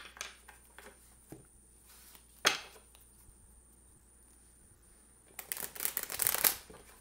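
Tarot cards are shuffled in a few short bursts, with a sharp riffle near the middle and a longer, louder flurry of card snaps at the end, close and otherwise quiet.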